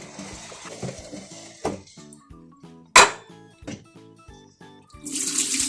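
Water swishes and pours as rice is rinsed and drained for a Thai sticky rice dessert with longan, with irregular splashes, one loud pour midway and a louder rush of water at the end, close by and with no talking.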